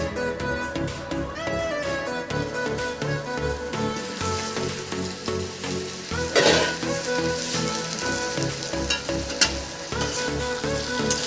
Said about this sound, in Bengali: বেশ কিছুক্ষণ ধরে আমি কষিয়ে নিয়েছি।